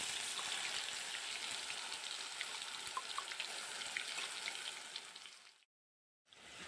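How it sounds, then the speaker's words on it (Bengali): Spice paste and radhuni seeds sizzling in hot mustard oil in a kadai, a steady dense crackle and hiss close by, briefly cutting to silence near the end before resuming. "কড়াই দিয়ে দেব সর্ষের তেল, ফোড়নে দিয়ে দেব রাঁধুনি, ফোড়নটা একটু লাল লাল হয়ে গেলে দিয়ে দেব বেটে রাখা মশলাটা"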